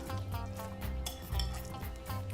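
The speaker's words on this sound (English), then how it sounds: "You stir it again." Squash salsa made with lime juice is stirred, giving a string of soft, quick scraping clinks in a rough rhythm. Steady humming tones sit underneath throughout.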